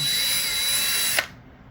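Power drill whirring steadily as the bit spins inside a freshly drilled hole in a Zuca trunk box, loud and close, then cutting off abruptly after a short clatter.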